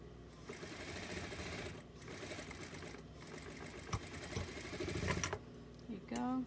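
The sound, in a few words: sewing machine back-stitching a doll romper seam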